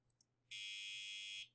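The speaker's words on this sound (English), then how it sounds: "That sounds like a Jeopardy buzzer." A programmed electronic buzzer from a Code.org circuit-board lesson gives a single harsh tone about one second long, with two tiny clicks just before, close and clear in a quiet room.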